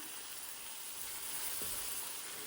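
Green peas and finely chopped ginger hiss in a pot while pulao is being prepared, giving a faint, steady sizzle throughout with no talking.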